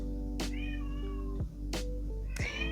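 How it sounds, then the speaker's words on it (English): A cat meows three times, drawn-out and plaintive, fairly close, over a low steady hum. "I hear a cat. Ignore the cat."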